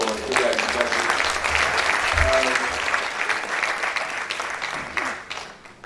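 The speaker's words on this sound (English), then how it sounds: "please another round of applause for Adebayo" An audience at a professor's valedictory lecture gives a warm round of applause, dense, sustained clapping that tapers off at the end, with a voice briefly heard underneath.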